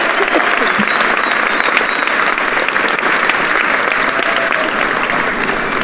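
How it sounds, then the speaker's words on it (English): A graduation crowd applauds Lionheart Award recipients, with steady, dense clapping that stays loud throughout. "another round of applause for our Lionheart Award recipients"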